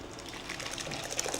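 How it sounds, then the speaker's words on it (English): Caldo verde, a Portuguese kale and potato soup, poured straight into a bowl, giving a soft, continuous liquid trickle and splash close by with no talking. "Just pour it straight into the bowl."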